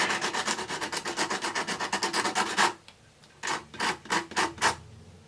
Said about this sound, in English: Again, using the sandpaper. Get a very nice sharp tip.